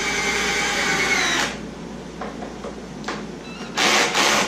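A power drill drilling wood boards whirs steadily for over a second, stops, then a few faint knocks follow before a second loud burst of drilling near the end.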